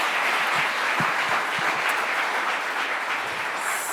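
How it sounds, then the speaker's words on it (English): Sustained audience applause at a student literary awards ceremony, a dense steady wash of many hands clapping at even loudness throughout, with no talking over it. "Could we please get another round of applause for Andrew?"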